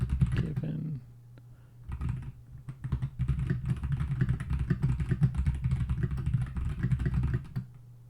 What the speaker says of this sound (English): It's definitely a mechanical keyboard. I think it's red switches maybe.